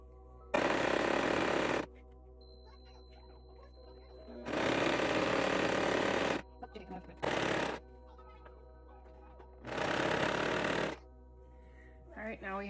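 A sewing machine stitches fabric pieces of a memory bear in four loud, close bursts of one to two seconds each, separated by quiet gaps with faint handling noises.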